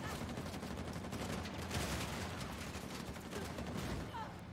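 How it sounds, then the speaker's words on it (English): Sustained gunfire rattles in the Uncharted video game, dense bursts of automatic shots and impacts overlapping without pause, loud and continuous across the whole stretch. "it's just constant gunfire"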